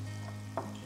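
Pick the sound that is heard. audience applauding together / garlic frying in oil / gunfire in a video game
garlic frying in oil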